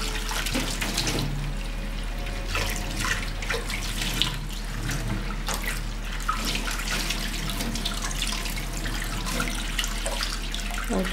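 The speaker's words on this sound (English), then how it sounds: "Megan, I think you should turn off the water. We don't want to waste water" A kitchen tap runs steadily while a bowl is washed, water splashing and spattering close by without a break.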